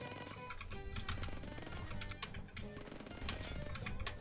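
Kriss Vector fire in Phantom Forces, heard as rapid automatic bursts at a fairly low level, mixed with other game sounds and a tonal background.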